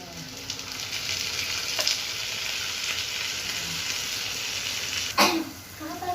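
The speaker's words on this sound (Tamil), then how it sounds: "பச்சை வாசனை போக இதை நல்லா வதக்கி எடுத்துக்கலாம்" Ground masala with onion, tomato, ginger, garlic, fennel and cumin sautéing in a pan for a village-style plantain kola urundai kuzhambu, a steady broad sizzle with stirring and a sharp clatter near the end.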